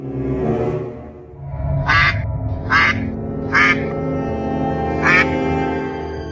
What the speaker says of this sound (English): why is there a duck in the house?